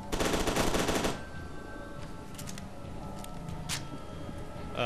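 Rapid automatic gunfire in a gunfight in the video game FEAR 2 Project Origin, a loud burst of fast shots for about a second, followed by a few fainter scattered shots and impacts.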